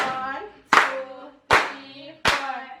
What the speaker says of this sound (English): So we're going to give him 18 claps.